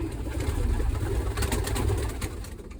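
Young pigeons coo softly and repeatedly in a loft over a low, rumbling background hum, with no talking heard.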